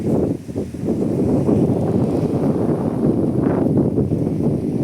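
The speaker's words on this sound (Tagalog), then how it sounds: "Okay dito, mahangin na, no?" Strong wind at the seaside buffets the microphone with a continuous low roar and rumble, close and loud throughout.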